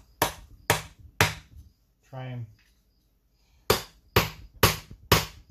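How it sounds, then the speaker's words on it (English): Sharp metallic hammer strikes drive a scraper between the metal case halves of a Peerless 600 transaxle, ringing in a steady rhythm, three blows, a short spoken phrase, then five more in quick succession. "this little scraper, one of these little scrapers, and a hammer, and just go in between."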